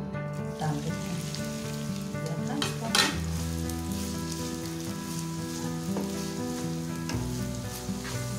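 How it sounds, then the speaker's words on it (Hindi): Finely chopped onions fry in hot mustard oil with a dense, steady sizzle and crackle and occasional stirring clatter, close and loud throughout, with no talking. "प्याज को हमने लाइट गोल्डन कलर में इसको हमने फ्राई कर लेना है"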